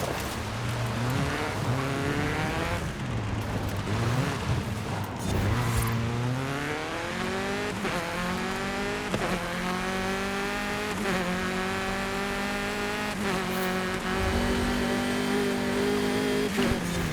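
Car in Forza Horizon 5 racing hard, engine revving up and down through repeated gear shifts with rising pitch sweeps, loud and continuous with a brief tire squeal.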